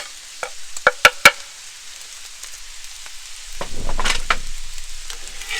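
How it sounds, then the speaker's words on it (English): Green onions being stirred into egg roll in a bowl on a Blackstone griddle. A few sharp metallic spatula taps come first, then a brief quiet, then a rising burst of sizzling and scraping as the food is mixed. "Mix that all in together"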